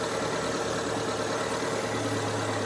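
A Daihatsu Taruna engine idles steadily and loudly up close during carburetor adjustment, a continuous even rumble with no talking.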